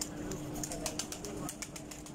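Faisalabadi John Sire pigeons coo softly in a loft at a pigeon-flying club, low rounded calls repeating under a faint background hum, close but quiet.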